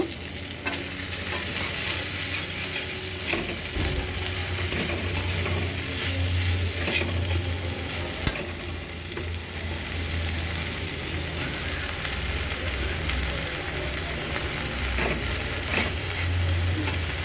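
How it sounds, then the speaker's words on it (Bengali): Bottle gourd greens tossed into hot frying spices in a pan, with a steady sizzle and stirring scrapes running continuously throughout, close and moderately loud, with no talking. "এখন আমি এই মশলার মধ্যে এই যে লাউ শাকটা দিয়ে দিব।"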